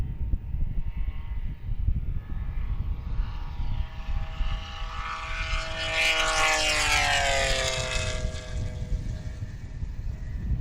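A 1995 BMW race car in a shootout race on a rural Nebraska road roars from a distance, building into a loud, sustained engine drone as it accelerates past, then fades away.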